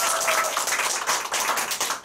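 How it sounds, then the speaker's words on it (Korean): An audience claps at a Korean skincare business training event. The applause is dense and steady for about two seconds, close and fairly loud, with no one speaking over it. "정소희 사장님께 큰 박수 부탁드리겠습니다"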